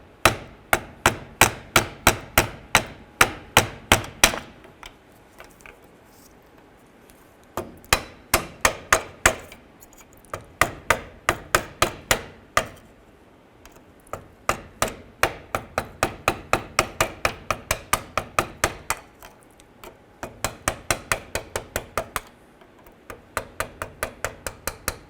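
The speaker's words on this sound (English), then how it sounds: "we're going to go ahead and use a screwdriver. You can use a punch. And we'll go ahead and work this clip off." A screwdriver or punch is hammered to drive a brake hose clip off a 2002-07 Jeep Liberty. Rapid bursts of sharp metallic strikes come in quick runs, separated by brief pauses, close and loud.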